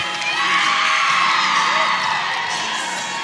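Home fans at a Central Michigan Chippewas versus Kent State college gymnastics meet loudly chanting and whooping for the Chippewas, a dense, close, sustained roar of many voices.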